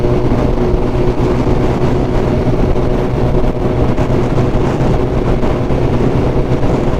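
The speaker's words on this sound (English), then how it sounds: "This is one, the Hayabusa with the Akrapovic, again a full system, and of course extensions." A Suzuki Hayabusa motorcycle with an Akrapovic full exhaust system and extensions, out on a night ride in Dubai, gives off a loud, steady, unbroken engine rumble mixed with heavy wind noise, with no voices.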